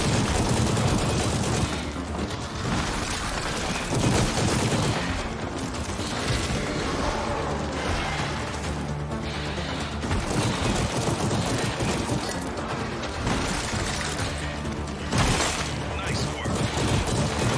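Continuous heavy gunfire in the VR game After the Fall, dense overlapping shots and booms over a noisy battle background with voices talking throughout.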